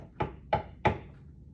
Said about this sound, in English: all of a sudden there was a knock at the door.